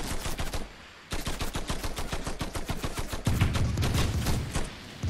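Rapid bursts of automatic gunfire from the video game Fortnite, crackling in a dense steady rhythm with a brief pause, then a heavier, louder stretch of firing with deep booms underneath.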